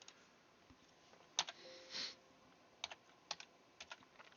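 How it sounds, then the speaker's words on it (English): Scattered keystrokes on a computer keyboard come in short irregular bursts and single taps, close and fairly quiet, with a brief muffled rustle partway through. "That's me not typing well"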